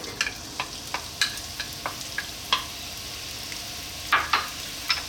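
Chopped onion dropped into hot olive oil on a high heat, giving a steady close sizzle broken by short crackling pops and bursts of stirring, no voices.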